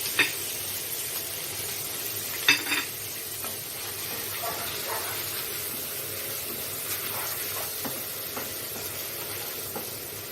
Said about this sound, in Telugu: అల్లం పేస్ట్ వేసుకొని ఇలా కలుపుకొని వేగిపోయిన తర్వాత